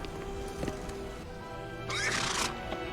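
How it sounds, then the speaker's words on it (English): A horse in an animated show gives a short, bright whinny as it backs away. The call rises briefly out of a quiet, humming soundtrack, with a few faint hoof-like knocks before it. "Horse is backing away."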